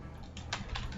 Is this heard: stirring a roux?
no